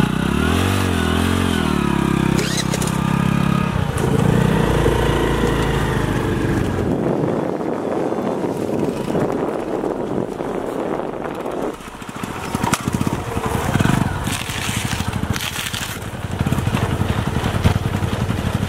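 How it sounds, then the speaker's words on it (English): A motorcycle engine fuelled by calcium carbide and water runs and revs, first rough and throbbing and then settling into a loud, buzzing idle with uneven bursts up close, with no talk. "let's ride the bike and see that with this amount of calcium carbide, how far this bike can run."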